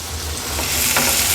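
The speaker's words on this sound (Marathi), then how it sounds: "कांदा पण तेलावर छान परतून घ्यायचा आहे आपल्याला" Finely chopped onion with ginger and garlic sautéing in oil for an Agri Koli style baby shark curry, a loud, dense, continuous sizzle with a faint stirring scrape, very close and unbroken, no voices.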